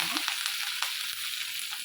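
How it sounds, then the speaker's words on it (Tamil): Dried red chillies and curry leaves crackle and sizzle in hot oil, a steady bright frying hiss with small pops scattered throughout, close and continuous with no voices. "காஞ்ச மிளகாய், கருவேப்பிலை போட்டுக்கலாம். பொரியட்டும்."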